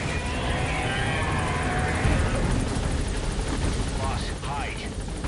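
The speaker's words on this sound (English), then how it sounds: "All right, the chopper's touching down." Helicopter touching down in a PS4 video game, a loud continuous rotor and engine roar with a steady wash of noise throughout, no talk over it.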